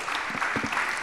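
Audience applause for the speakers at an urban-planning debate, a short burst of dense clapping with a few sharper claps standing out, close and fairly loud.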